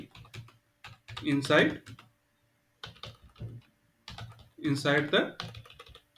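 Computer keyboard typing of an SQL query comes as clusters of close, crisp key clicks, while someone talks intermittently between and over the bursts of keystrokes.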